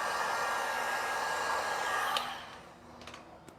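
Heat gun blowing hot air over matte black vinyl wrap on a Cybertruck, a steady close broadband whoosh that cuts off after about two seconds, followed by a few faint clicks and handling noises.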